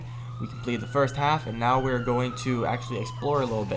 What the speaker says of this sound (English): I believe you guys can hear an ambulance running around outside.